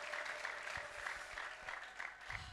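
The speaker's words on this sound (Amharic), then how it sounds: "ለዚህም እስቲ እግዚአብሔርን አጨብጭቡ" Church congregation applauding steadily, a continuous wash of many hands clapping at moderate distance, fairly quiet and even throughout.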